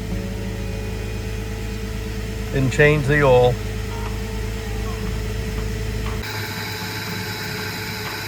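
A Jeep WJ engine, slightly noisy, idles steadily in a low, even hum, with someone briefly speaking over it before the running sound carries on alone.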